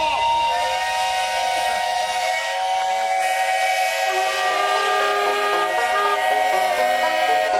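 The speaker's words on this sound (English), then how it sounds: "Shut that whistle off." A tractor show steam whistle blows loud and steady, a shrill chord of several tones that holds without a break over a low background rumble.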